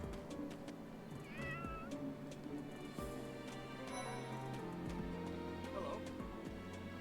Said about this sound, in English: they meow though. You hear them meow.